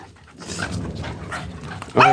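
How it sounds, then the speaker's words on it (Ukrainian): A dog whimpers and yips faintly among quiet rustling in a spring garden during tulip planting, then gives one sudden, louder bark-like yelp near the end. "Жулик, чого ти гавкав?"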